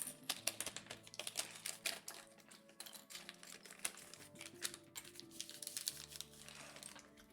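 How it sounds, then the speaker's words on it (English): A wrinkly paper envelope from a LEGO Enterprise D set is handled during an unboxing, giving quick crisp crinkles and rustles at close range over steady background music. "Wrinkly paper envelope ASMR sounds."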